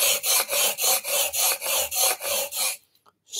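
A blade drawn repeatedly across a Rider sharpening station, six even, rasping strokes in a steady rhythm, close and loud, ending in near silence.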